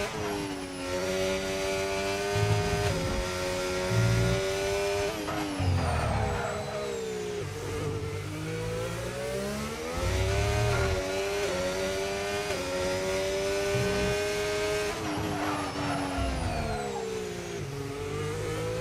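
An F1 car in pre-season testing at Bahrain, throttling out of turn 4 with a high, whining engine note that climbs in pitch through the gears, shifting repeatedly in loud, close onboard sound.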